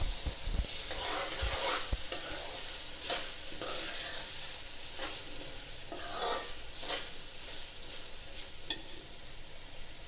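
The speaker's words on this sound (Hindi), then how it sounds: "अब इनको अच्छी तरह भूनती हूँ।" Minced meat with potatoes and peas fries and sizzles quietly in a pot for aloo keema matar, with repeated scraping strokes of a spoon stirring through the steady hiss.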